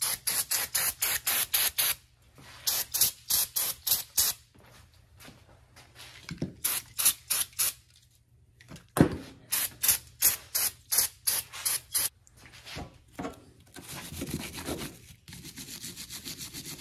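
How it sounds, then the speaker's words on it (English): Carb cleaner sprays onto a gooey Cub Cadet 129 garden tractor carburetor in quick, close bursts of hissing, several rapid rows of short sprays separated by brief pauses. "Let's go grab some carb cleaner and get that."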